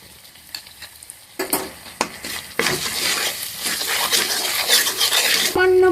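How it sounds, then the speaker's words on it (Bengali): Ghee and asafoetida (hing) sizzling in a pan for vegetarian bhoger khichuri, quiet at first with a few clinks and stirring scrapes, then swelling into a steady loud sizzle. "তার সাথে দিয়ে দিলাম ঘি। তার সাথে দিয়ে দিলাম হিং।"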